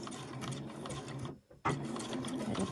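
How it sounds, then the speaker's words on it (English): A sewing machine needle turned slowly down by hand while binding a cover, giving a steady close mechanical whirring with a short quiet gap partway through. "I'm just going to hand wind my needle down just very slowly."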